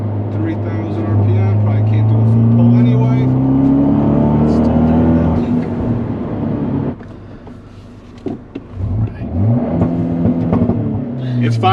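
A Fiat 124 Spider Abarth with a big turbo engine, heard from inside the car, accelerates with a rising, droning engine note over the first half. Then it eases off into a lower rumble as someone talks throughout.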